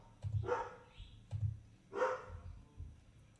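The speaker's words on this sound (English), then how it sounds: "And the dog is barking." A dog barks several times at medium distance, sharp separate barks spaced about a second apart with a lower rumble between them, and no talking over it.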